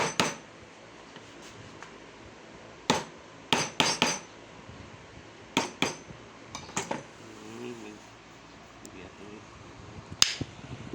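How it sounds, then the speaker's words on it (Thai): Parts of an antique electric fan are hammered during assembly, giving sharp metallic taps in scattered single strikes and quick pairs over a steady low room background. A voice is briefly heard between the strikes. "ตอกใหม่"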